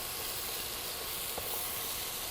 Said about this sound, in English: While these are sauteing